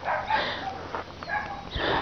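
A neglected feral hound whimpers and yips softly in short, thin, high-pitched bursts, close by and fairly quiet, with faint background noise.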